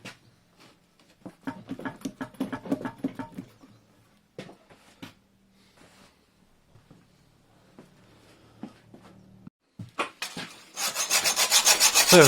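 Hacksaw cutting through a stud on a Triumph TR7 engine, bursts of rasping back-and-forth strokes with pauses and small knocks, ending in a fast, loud run of rhythmic sawing strokes close by.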